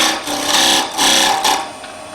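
A skew chisel cuts a V-cut into wood, giving rough scraping, rasping bursts in a steady rhythm with brief pauses, close and fairly loud with no talking.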